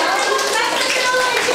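Play-school children clapping their hands together in a classroom, a quick, busy patter of many small claps running throughout, with children's voices mixed in.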